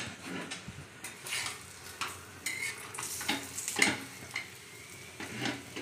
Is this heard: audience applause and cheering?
no